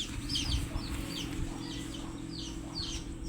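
Faint clucking of chickens on a chicken farm over a steady low rumble, a few short calls scattered across the clip.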